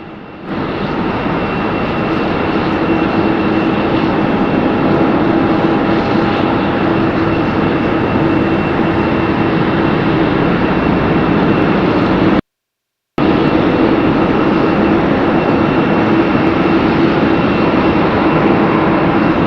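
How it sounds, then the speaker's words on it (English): Aircraft taking off at Raleigh-Durham International Airport, a loud sustained engine roar with a broad rushing tone that holds steady, broken by one brief dropout of silence. "Takeoff here, not even going full length."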